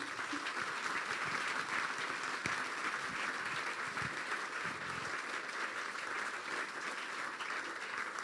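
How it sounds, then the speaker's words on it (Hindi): Church congregation clapping for Jesus during a Hindi-language sermon, a continuous, fairly quiet and even wash of applause filling the room with no speech over it. "यीशु के लिए जोरदार तालियां बजा दें"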